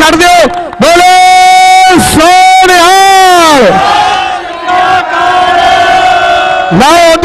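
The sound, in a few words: crowd shouting a jaikara and clapping at a kabaddi tournament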